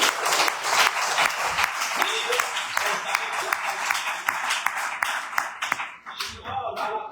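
Congregation clapping and applauding steadily at a Christian wedding consecration service, dense sustained applause filling the room with a brief dip near the end, voices faintly mixed in.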